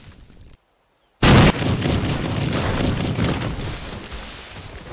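Bomb blast in the video game Teardown with a Pyromania mod, a sudden loud boom after a brief silence, followed by a long, dense rumble of crackling debris and burning that slowly fades.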